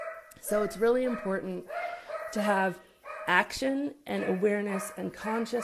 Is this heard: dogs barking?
yes